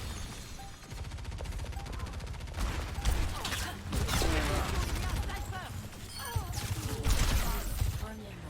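Mechanical clicks and clacks of a revolver reload by Cassidy in Overwatch, mixed with distant gunfire and game effects, while a voice talks over the action.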